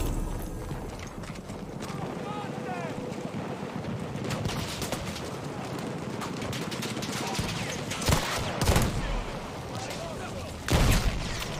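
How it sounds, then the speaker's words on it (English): A field gun fires in the World War I shooter Battlefield 1, with two heavy booming blasts near the end, over a busy battlefield of rattling gunfire, hoofbeats and wind, while a voice talks. "Oh, fuck, field gun."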